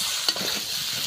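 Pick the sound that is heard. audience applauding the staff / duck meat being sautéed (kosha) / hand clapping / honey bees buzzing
duck meat being sautéed (kosha)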